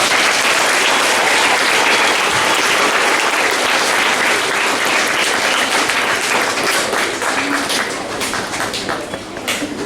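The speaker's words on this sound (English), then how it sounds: "So let's give them another round of applause." Loud, sustained applause from an audience at a school awards assembly, a dense wash of clapping hands that continues steadily throughout and fades slightly at the end.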